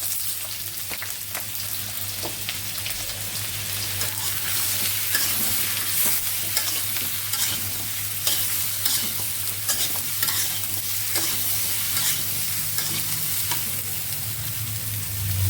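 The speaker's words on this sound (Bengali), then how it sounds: "আলুগুলো ভেজে নিচ্ছি আগে আলু ভেজে নিই তারপর পটলগুলোও ভেজে নেবো" Cubed potatoes fry in hot oil in a pan, giving a steady, close sizzle with crackling and scattered spoon-stirring scrapes throughout, and no voices.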